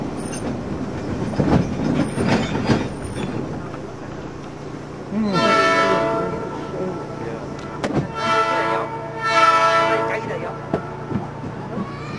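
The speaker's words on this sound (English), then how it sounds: "they worked for a complete stop, signaled by one blast of the locomotive's horn" The Georgetown Loop Railroad locomotive sounds two long, steady horn blasts over the rumble and clatter of the rolling train cars, with some voices heard beforehand.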